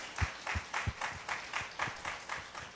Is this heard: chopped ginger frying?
no